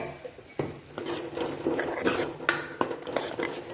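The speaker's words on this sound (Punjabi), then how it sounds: "ਹੁਣ ਟਮਾਟਰਾਂ ਦੀ ਪਿਊਰੀ ਐਡ ਕਰਾਂਗੇ ਟਮਾਟਰ ਦੀ ਪਿਊਰੀ ਐਡ ਕਰਤਾਂਗੇ ਚੰਗੀ ਤਰ੍ਹਾਂ ਮਿਕਸ ਕਰਾਂਗੇ" Tomato puree stirred into onion gravy in a pan, a spoon scraping and clinking against the metal in steady repeated strokes with occasional sharper knocks, close and alone without talk.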